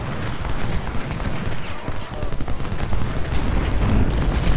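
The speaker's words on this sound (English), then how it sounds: "Getting good shots in at that artillery" Cannon and musket fire from a Civil War battle at Shiloh in the Ultimate General strategy game, a dense continuous rumble of overlapping gunshots and artillery booms held at a steady loud level throughout.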